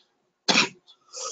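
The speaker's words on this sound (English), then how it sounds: "I have a bit of a cough" Single short, sharp cough from a man getting over a cold, close and clear, followed by faint breathy throat noise.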